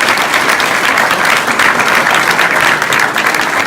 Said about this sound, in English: I'd like to give a quick round of applause for the entire Rainier Party and their precinct officers